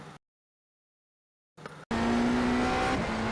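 BMW M Hybrid V8 race car in the iRacing simulator at Barber Motorsports Park, engine droning steady and loud at full throttle after a brief silent gap, with a faint tire squeal.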